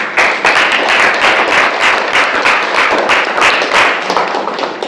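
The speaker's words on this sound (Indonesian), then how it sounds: "Beri tepuk tangan, Nak." Classroom of students clapping together in a dense, steady burst of hand claps that stays loud and close for several seconds, with no speech over it.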